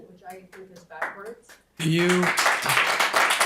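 An audience at a county board of canvassers public meeting breaks into loud applause that comes in suddenly and lasts about two seconds, just after one person finishes speaking.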